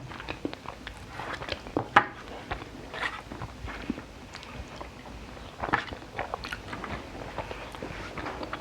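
Someone eating mango with sticky rice, close-up soft bites and wet chewing in irregular bursts, with occasional light clicks and a quiet background.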